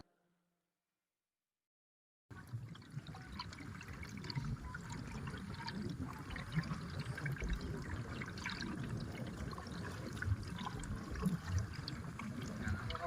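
Floodwater rushing over flooded farmland near a mountain, a dense continuous roar of flowing water that starts abruptly after a short silence and stays loud and steady, with faint voices underneath.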